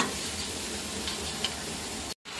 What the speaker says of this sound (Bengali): মেয়ের জন্য এখন একটু পাঁপড় ভাজবো।